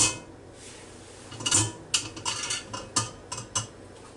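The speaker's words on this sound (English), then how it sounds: "I'm going to take this rack out." Metal cooking rack lifted out of a Ninja Foodi Deluxe pot after cooking pork ribs: a series of light metallic clinks and scrapes, close and fairly quiet, in irregular bursts with no talk.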